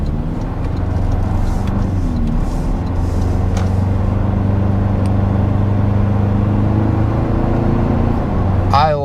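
A Toyota Tacoma engine fitted with a Banks cold air intake idles and hums at a steady, low, continuous drone from close range, with a faint voice near the end.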